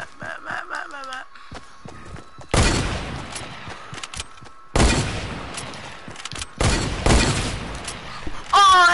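Several loud bursts of gunfire in a shooter game ring out in separate volleys, sharp and close, with brief quieter gaps, scattered clicks and a bit of voice between them.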